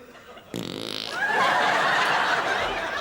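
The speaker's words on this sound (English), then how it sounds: "Then it is the first fart on the Wogan show." Fart on a TV talk show, a sudden blurt followed by a studio audience erupting into sustained loud laughter and cheering that swells and holds to the end.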